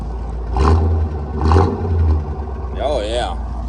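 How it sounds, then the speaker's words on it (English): A 1956 Mercury Montclair's 312 Y-block V8 is revved in short bursts, two swelling throttle blips over a steady idle rumble, heard up close while people talk nearby. "Let's listen to that 312 talk."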